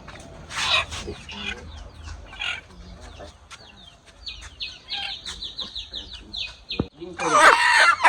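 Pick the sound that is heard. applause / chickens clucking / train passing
chickens clucking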